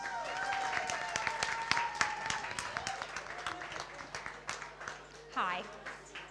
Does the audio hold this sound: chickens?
no